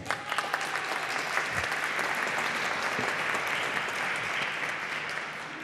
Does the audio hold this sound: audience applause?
yes